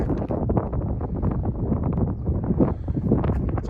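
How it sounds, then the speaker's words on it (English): Wind buffeting a microphone on a mountaintop at over 10,000 feet along a highway, loud rough gusty rumble filling the whole clip. "it's a little windy up here, a little windy."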